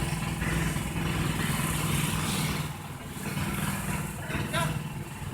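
A motor boat engine drones steadily on the Kerala backwaters near Kochi, a loud close chugging hum that dips briefly midway before carrying on, with faint voices mixed underneath.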